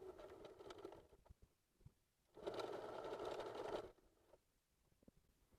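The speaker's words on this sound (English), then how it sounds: "don't forget to backstitch all the way to the edge" A sewing machine backstitches a seam on a zippered fabric pouch, whirring in two bursts with quiet pauses between them; the second run is longer and steadier.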